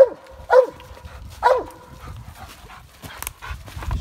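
A hunting dog barks at a raccoon up a tree, two loud, sharp barks about a second apart, followed by quieter panting and rustling close by outdoors at night.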